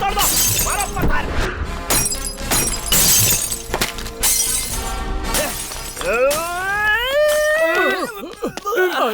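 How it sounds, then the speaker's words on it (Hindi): Glass and objects shattering as stones are thrown during an attack scene in a Hindi-dubbed action movie, loud crashes over music, then shouting voices and a wailing sweep of sound. "तोड़ो तोड़ो, सब तोड़ दो, मारो पत्थर।"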